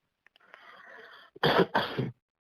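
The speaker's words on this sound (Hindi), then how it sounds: "देखो फिर खांस रही हूँ" A woman coughs, a soft hoarse rasp first and then two loud harsh coughs close by, alone with no talk.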